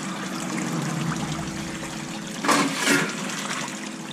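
Water rushes steadily through an opened Dragonfly flow modulator deflector, a constant close flow with two brief louder surges and splashes near the end.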